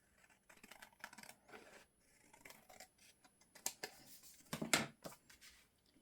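Scissors snip through fabric for a small raised pocket, a run of quick close crisp cuts and scratchy rustles, with one louder snip near the end.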